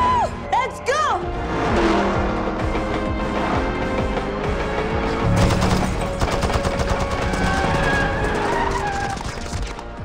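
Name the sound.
gunfire hitting a car in a movie scene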